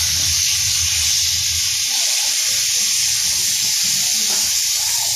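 White pomfret fish fries in a pan after being turned on both sides, giving a loud, continuous, even sizzle that fills the whole stretch with low bubbling underneath.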